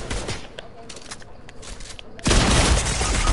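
Gunfire in a shooter video game: a few sharp shots crack out early, then a loud, dense burst of firing takes over in the final second and a half.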